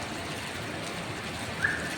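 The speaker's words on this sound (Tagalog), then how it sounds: "Lakas ng ulan." Dense, steady hiss of heavy rain pouring without a break on a flooded road in Cubao, broadband and constant throughout, with no voices.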